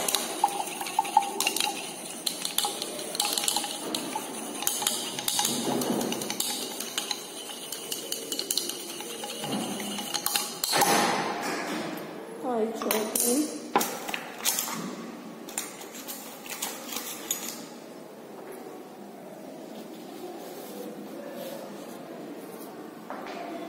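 Glassware clinks and a liquid swirls as chloroform solution is mixed for thin layer chromatography, close up in a lab. Short taps and stirring scrapes come in uneven bursts, easing to a softer hiss.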